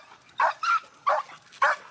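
A frustrated pit bull gives four short barks with whimpering yips, evenly spaced and close, with no talk over them.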